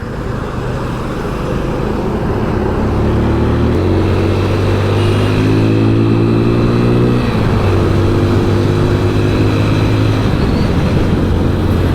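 Steady engine drone and rushing wind from a TVS Apache RTR motorcycle moving at speed on an open highway, with gear shifts audible as the pitch steps and climbs.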